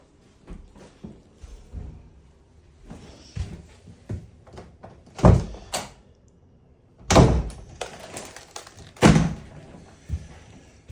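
Interior doors in a house walkthrough are handled in a room, giving a series of irregular thunks, latch clicks and a few sharper knocks and bangs spread over several seconds, fairly close.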